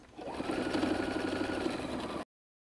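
A sewing machine runs a straight stitch along the binding of a messenger bag, a steady close whirring hum for about two seconds before stopping abruptly.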